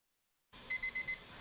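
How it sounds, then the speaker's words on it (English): A kitchen timer for cooking pork goes off, beeping four times in a quick, even series of sharp electronic tones over a low background hum. "There's the timer on our pork."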